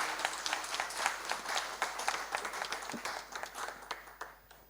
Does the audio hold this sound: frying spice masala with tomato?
no